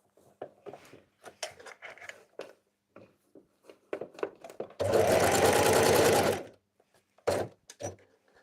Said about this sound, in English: Just sewing some scrunchies right now.